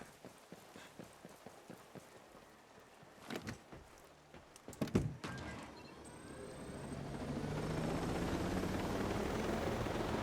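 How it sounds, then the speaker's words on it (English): Helicopter in the video game Ghost Recon Breakpoint, with irregular thumps and clatter at first, then a steady rising rotor and engine roar that grows loud and continuous. "let's use this helicopter"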